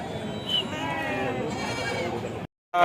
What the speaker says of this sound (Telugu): పెద్ద సైజు నల్ల నల్ల మేక పోతులు